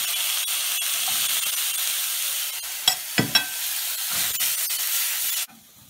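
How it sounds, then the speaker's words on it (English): Boiled potatoes sauté in butter in a pan with a steady, close sizzle, broken by a few sharp knocks of stirring before the frying noise cuts off near the end. "So then I add the saute potato, boiled potato."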